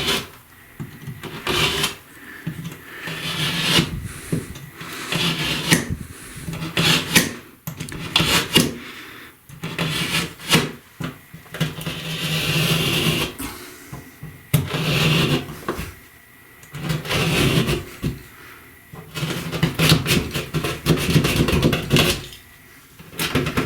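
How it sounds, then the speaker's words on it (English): Cutting a small piece of drywall out of a bathroom wall during a remodel, a run of scraping, rasping strokes and knocks repeating unevenly at close range, with no talking. "we'll go ahead and cut this little piece of drywall out"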